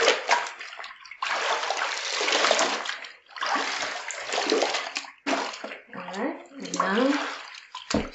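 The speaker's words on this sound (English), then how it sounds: "Then we just squeeze it out. Wringle the water out." A wet white towel wrung out by hand over a tub while being washed by hand, giving bursts of splashing and dripping water with short pauses and close handling noise.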